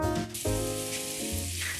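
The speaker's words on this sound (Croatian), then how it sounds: "kad krene ovako luk polako da se prži" Onions sizzle in 50 ml of oil in a large frying pan over medium-high heat. A steady hiss of frying runs throughout the short moment, with faint tonal background sound underneath.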